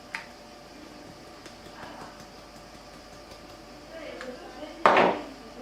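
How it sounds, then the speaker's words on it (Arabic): Kofta mixture with salt, black pepper and paprika being mixed in a bowl, heard as faint soft scrapes and light clinks, then one sharper clatter near the end. "غادي نخلط هاد المكونات هادو"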